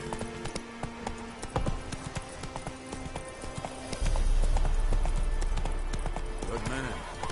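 Horse hooves clip-clop at a gallop in the Witcher 3 video game, a steady rhythmic drumming that grows louder and heavier midway, with game ambience around it.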